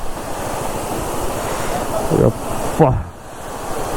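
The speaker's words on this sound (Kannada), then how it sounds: "ಏನು ಬೀಳ್ತಾ ಇದೆ ನೋಡಿ ವಾಟರ್ ಫಾಲ್ಸು." A monsoon waterfall at Tamini Ghat in Maharashtra gives a steady, loud, broadband roar like heavy surf that fills the whole clip, with a brief spoken word partway through.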